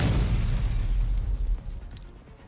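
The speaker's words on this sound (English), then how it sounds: "Once again, there's another deafening explosion." In the video game Girls Frontline 2, a deep explosion booms as rocks blast apart, a heavy low rumble that rolls on and slowly fades with scattered debris crackle.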